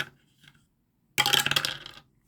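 Dice tumble down a dice tower in a short, bright clatter lasting under a second, after a nearly silent lead-in with only faint small knocks.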